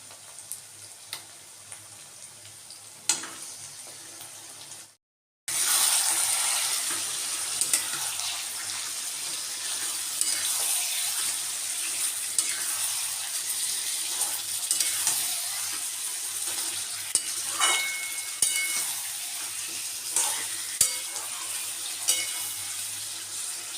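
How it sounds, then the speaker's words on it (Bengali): Mutton going into a pan of fried onions for a thin red mutton curry: a quiet start, a brief silent gap, then a loud, continuous close-up sizzle with crackles and occasional stirring scrapes. "পেঁয়াজটা একটু ভাজা হয়ে এসছে এরপর আমি এর মধ্যে মাংসটা করছি"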